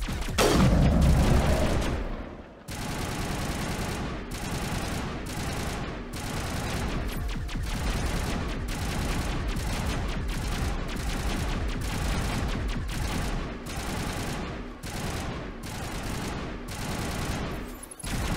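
Dense, sustained crossfire of rapid automatic gunfire with heavy booms in a Mass Effect 1 battle against Geth, shots crackling continuously and loudly for the whole stretch with brief dips.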